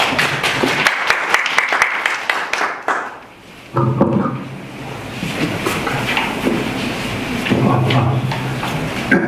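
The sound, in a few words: audience applause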